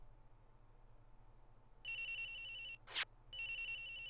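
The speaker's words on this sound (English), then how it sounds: "Agent Hick's phone! It's ringing from somewhere, sir." A mobile phone rings in the Miles Edgeworth: Investigations video game, two bursts of a bright electronic ringtone separated by a short sharp chime, clear against a quiet, low background hum.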